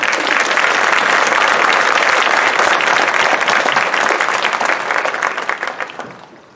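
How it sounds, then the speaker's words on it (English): A high school graduation audience applauds faculty and staff, a loud, dense wash of clapping that holds steady for several seconds and then thins out and fades. "Please help me by giving them a round of applause for their efforts to make today a possibility."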